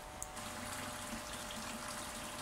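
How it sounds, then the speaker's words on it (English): Tap water runs steadily into a container being filled to the brim for hatching brine shrimp, a continuous close hiss of flowing water that starts after a brief pause and carries on without talk. "I'll fill it up with water."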